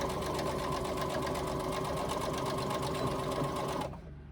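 A sewing machine bastes a fabric pocket pouch in one steady, fast, even run of mechanical stitching for almost four seconds, close and moderately loud, then it stops abruptly.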